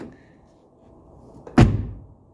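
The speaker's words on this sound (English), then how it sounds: "See how that door shuts easy?" The car door of a 1982 Mercedes 240D shuts with a single solid thud, heard close and clear after a moment of quiet.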